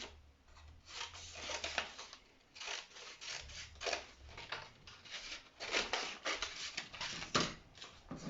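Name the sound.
scissors cutting fabric on fold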